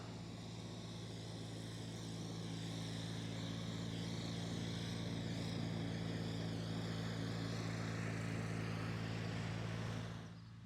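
A neighbour's lawn mower runs steadily in the distance throughout a garden setting at the end of June, a continuous droning engine hum that holds level and then cuts off near the end.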